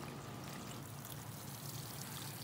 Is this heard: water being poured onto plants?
yes